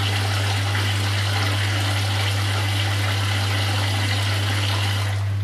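Hot water pours steadily onto rice in a pot while cooking Nigerian jollof rice, a continuous close splashing rush over a low steady hum, with no talk.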